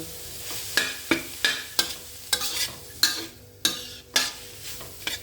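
Fried eggplant is stirred in a pan with minced chicken, a spatula scraping and clacking in about ten sharp strokes spread across the clip over a light, steady sizzle.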